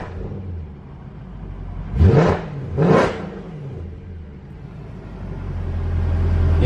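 A Mercedes C63 AMG (W204) engine idles with a low rumble, then is revved twice in quick succession, two sharp rising roars about a second apart, close by, before settling back to idle.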